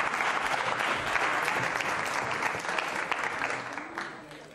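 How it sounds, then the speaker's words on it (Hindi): An audience at a Ramadan quiz show claps loudly and continuously, a dense crackle of many hands that holds steady, then thins and fades toward the end. "तालियां जोरों से बजाइए, जोरदार तरीके से"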